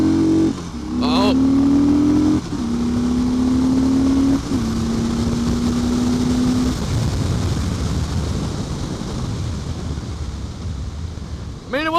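A 2015 Harley-Davidson Street Bob motorcycle engine revs and climbs through gear shifts, loud and close with heavy wind noise, the pitch rising then dropping at each shift.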